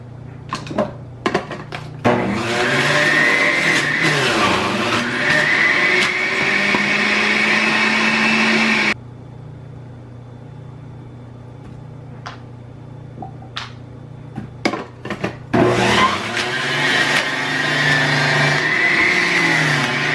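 A juicer grinds turmeric root with a loud, steady motor whine that runs for about nine seconds, stops briefly, then starts up again with faint clatter in the pause.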